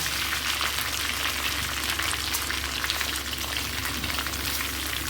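Chicken frying in a pan while being cooked for a chicken masala, with one side browned and the pieces being turned, producing a dense, continuous sizzle and crackle heard up close.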